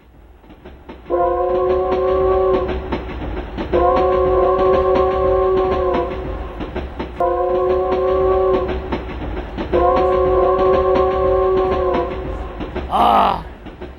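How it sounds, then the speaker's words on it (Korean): A train arrives at Harbin station as a sound effect in a senior puppet theatre performance. It gives four long, loud blasts of a multi-tone horn in two pairs over a steady rumble, followed by a brief high squeal. "저기 이토 히로부미가 기차에 내려 사람들을 향해 다가오네"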